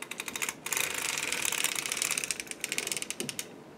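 A circular sock machine is hand-cranked to shape a sock heel, giving a rapid run of sharp mechanical clicks and rattles, close and steady, with a short pause near the start and no talk.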